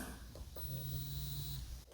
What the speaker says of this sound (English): The haptic feedback is okay. Here, I'll let you listen to it.